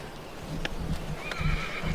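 A horse whinnies at a camp in a meadow, a couple of short neighs with a few soft hoof clops, moderately close against quiet outdoor ambience.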